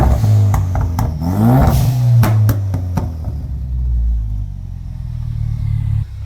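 A Ford Mustang engine with a custom-built exhaust revs several times close by, deep rumbling blips with sharp crackles between them, then settles to a low idle.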